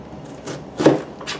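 Three crisp knife strokes cut through food onto a cutting board, the middle one loudest, in a quick uneven rhythm.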